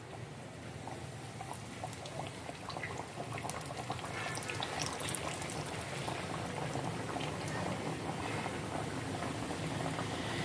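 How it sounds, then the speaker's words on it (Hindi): Potato samosas frying in hot oil in a kadai over a low flame, a dense, steady bubbling and crackling that stays even and close throughout. "अब इसमें हम डाल लेंगे और इसको हम हल्की आंच पर फ्राई कर लेंगे"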